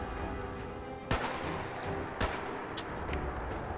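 Gunshots from the video game Fallout 4, three sharp separate cracks spaced over a few seconds against a steady low game ambience, the last one briefest and brightest.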